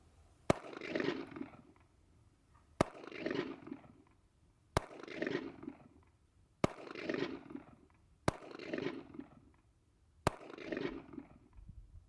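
A Taurus PT 92 pistol fired at a range, six sharp single shots spaced about two seconds apart, each followed by a booming echo that rolls away.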